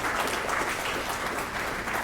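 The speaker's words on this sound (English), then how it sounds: "give our mayor a round of applause" An audience at a city district state-of-the-district event gives a dense, loud, sustained round of applause for the mayor, with clapping filling the whole stretch.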